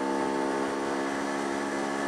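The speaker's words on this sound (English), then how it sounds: "of revving the engine up to get the power" A car engine revs hard to pull power up a steep hill, a steady droning tone holding throughout at a constant, fairly loud level with no talk.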